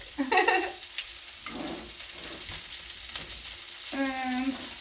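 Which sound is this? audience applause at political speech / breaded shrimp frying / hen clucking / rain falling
breaded shrimp frying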